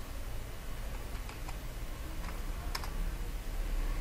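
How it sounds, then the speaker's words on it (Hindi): Computer keys tapped in a few light, scattered presses over a steady background hum during word-processing work, fairly faint and close, with no talking. "डिलीट का बटन प्रेस किया और मैंने यहाँ पे आगे टेक्स्ट टाइप किया"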